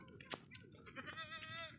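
Goats bleating outdoors in a forest while food is cooked, a few wavering bleats rising over low background talk and camp noise.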